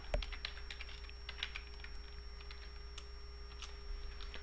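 Typing on a computer keyboard while writing a Unity script: quiet, close, irregular key clicks continue throughout over a faint steady hum, with no voices.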